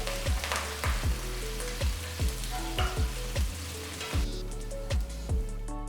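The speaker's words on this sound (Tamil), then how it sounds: "ஒரு பேன்ல 2 டேபிள் ஸ்பூன் எண்ணெயை ஊற்றி இதில் பொடியா நறுக்கின பூண்டு 3 பல்லு, ஒரு துண்டு இஞ்சி பொடியா நறுக்கினது, 2 பச்சை மிளகா பொடியா நறுக்கினது" Chopped garlic, ginger, green chillies and curry leaves sauté in hot oil in a pan, with a steady close sizzle and a spoon scraping and stirring in a regular rhythm.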